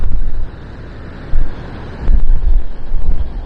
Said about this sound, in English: But it is bloody windy.